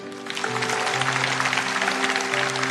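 A church congregation claps together in sustained, dense applause, with steady keyboard or organ tones held underneath.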